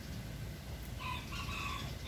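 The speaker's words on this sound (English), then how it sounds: "Ah, there's a bird." A rooster crows outdoors, a drawn-out call rising over steady background noise, moderately distant and heard alone without talking.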